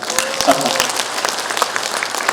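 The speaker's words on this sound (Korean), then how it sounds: "박수 한번 부탁드리겠습니다" An audience at a Boeun farmers' cooperative annual meeting applauds in a steady wash of clapping, with voices mixed in throughout.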